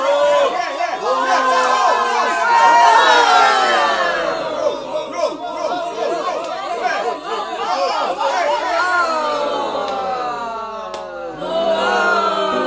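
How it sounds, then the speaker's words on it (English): Crowd sounds laid over Rocket League car-soccer gameplay: a dense, loud stadium roar of cheering, chatter and shouted battle cries swells and dips continuously throughout, with many overlapping voices. "This is what Rocket League would sound like if it had crowd sounds."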